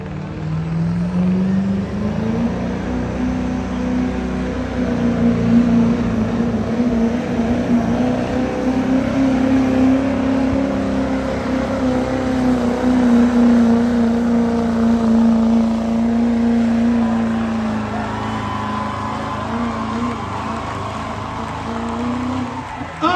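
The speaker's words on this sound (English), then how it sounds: "Jeremy Miller out of Goshen, spooling up the Chevrolet, the Duramax power." A Chevrolet Duramax diesel pulling truck at a county fair truck pull drones loudly as it spools up, a steady engine roar that holds for over twenty seconds with faint crowd and announcer sound beneath.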